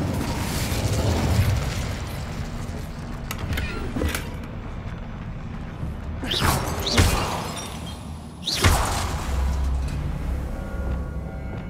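An Incendio fire spell cast in Hogwarts Legacy: a rushing, crackling burst over steady background noise, followed by several sharp whooshing blasts and booms spaced a couple of seconds apart.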